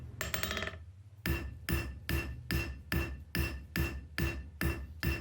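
A hammer forges a steel fire striker over the horn of an anvil. A quick metallic rattle is followed by about nine evenly spaced, ringing blows, all close and loud, with no voices.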